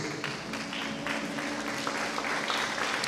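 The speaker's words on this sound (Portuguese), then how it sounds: "Pode tomar assento, dando um aplauso para o Senhor Jesus" A church congregation claps together in steady, moderately distant applause during a Holy Communion service, a continuous patter lasting a few seconds with no voices on top.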